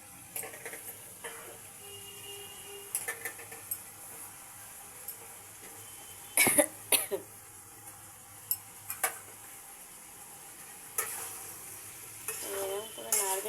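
Cauliflower with black pepper cooking in a frying pan, a low steady sizzle broken by scattered sharp scrapes and clinks of a spoon stirring against the pan, some closer and louder than others.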